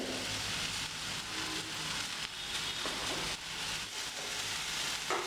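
Tomato, green chili, tamarind and asafoetida sauté in a pan for curry leaf chutney, producing a steady, moderately loud sizzle and frying hiss with occasional stirring scrapes and no speech.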